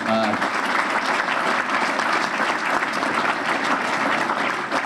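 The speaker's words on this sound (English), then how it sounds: "Another round of applause for all the elected officials." Sustained applause fills a hall at a St. Patrick's Day luncheon for a boys and girls club in South Boston, a dense steady clapping crowd that neither builds nor fades across the stretch.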